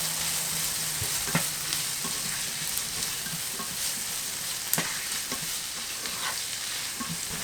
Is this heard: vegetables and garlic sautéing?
yes